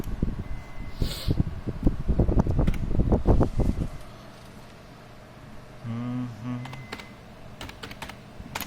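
Rapid keystrokes on a computer keyboard as a file name and .jpg extension are typed, a dense clattering burst for the first few seconds, then quieter room noise with a brief low hum.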